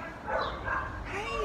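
A bulldog at a dog pound gives short yips and whimpering bow-wow sounds, close and fairly soft, mixed with a person's soothing talk.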